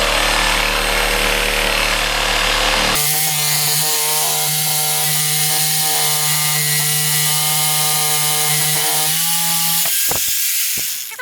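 A power saw cuts through pipe during a bathroom renovation, a loud continuous whining buzz that runs unbroken for several seconds, then stops abruptly at the end, with no talking.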